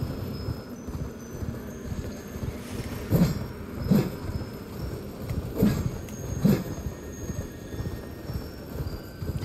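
Horse hooves clip-clopping while riding in the video game Elden Ring, several soft thuds in an uneven gait over a low rumbling ambient bed, fairly close but not loud.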